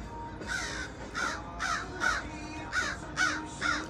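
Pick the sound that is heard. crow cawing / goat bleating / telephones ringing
crow cawing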